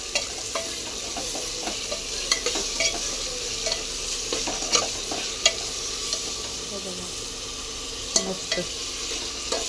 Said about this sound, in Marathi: टोमॅटो कापलेले टाकायचे आणि त्याच्यामध्ये मीठ, आपल्याला हे हलवून घ्यायचे